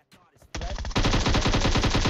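Sniper rifle fire in the mobile battle royale game PUBG Mobile, a loud burst that swells into sustained rapid gunfire, close and dense, after a short quiet start.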